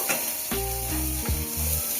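Chopped onions hit hot oil for chicken changezi, making a steady sizzle broken by loud metallic scraping and clanking strokes of a spatula against the pan, close by and without speech.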